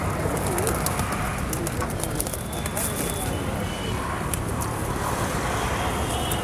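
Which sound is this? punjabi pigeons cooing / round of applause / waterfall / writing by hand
punjabi pigeons cooing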